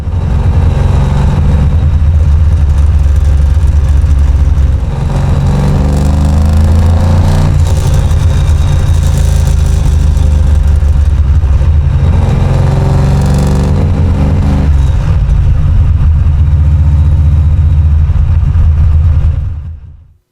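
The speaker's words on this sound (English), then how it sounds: "Ford 427 single overhead cam Cammer engine." A Ford 427 SOHC Cammer V8 engine in a 1959 Ford Thunderbird rumbles loudly and continuously close by, with a deep lopey idle and occasional brief revs, no voices.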